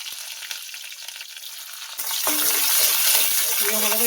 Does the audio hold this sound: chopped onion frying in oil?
yes